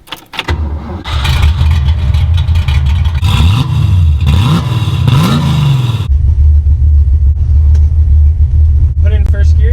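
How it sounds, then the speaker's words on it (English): A Ford Mustang with a manual gearbox cranks and fires up, revs in several rising and falling blips, then settles into a steady loud idle, with a person's voice faintly audible near the end. "Start the car."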